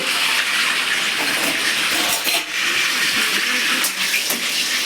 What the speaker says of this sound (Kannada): ಈ ಕರಿಬೇವು ಸೊಪ್ಪು ತೊಳ್ಕೊಂಡಿದ್ನಲ್ಲ, ಇದನ್ನು ನಾನು ಇದಕ್ಕೆ ಸೇರಿಸ್ತಾ ಇದ್ದೀನಿ. ಎಣ್ಣೆ ಕಾದಿದೆಯಲ್ಲ, ಅದಕ್ಕೆ ಸೌಂಡ್ ಆಗಿದೆ.